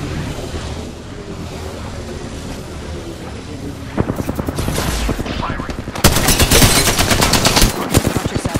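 Video game gunfire starts after a stretch of low background noise: a rattling automatic burst, then a louder, denser volley of rapid shots near the close.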